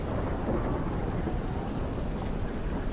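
Steady heavy rain pours at night while deep rolling thunder rumbles underneath, a continuous dense wash of sound with no voices.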